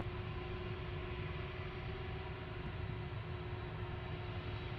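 An airliner departs from DFW International Airport, its engines making a steady, loud jet roar with a faint tonal whine. The sound holds constant with no distinct peaks.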